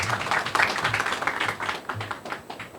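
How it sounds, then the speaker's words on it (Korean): Applause at the opening of a Korean ESG management forum welcomes the speaker giving the opening address, a brief spell of scattered clapping from a modest audience, fairly close and steady. "박수 부탁드립니다."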